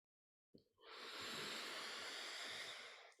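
One long, slow breath begins after a brief silence and holds as a steady close airy hiss during meditation practice.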